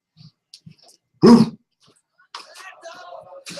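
A dog gives one sharp, loud bark amid faint whimpering sounds, followed by a person speaking nearby.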